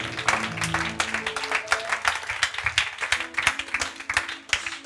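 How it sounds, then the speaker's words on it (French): A church congregation claps and applauds during a Sunday sermon, dense overlapping hand claps throughout with a few cheers and voices mixed in, steady and fairly loud. "Acclame ça."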